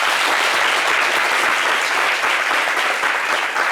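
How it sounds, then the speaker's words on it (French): A studio audience at a French evening talk show claps steadily and loudly throughout, a dense sustained burst of applause with no break. "On applaudit pour ça?"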